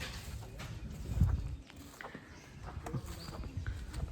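Horses walk near a stable, their hooves giving uneven, close clip-clops over a low rumble of movement and shuffling, with a few heavier thuds standing out.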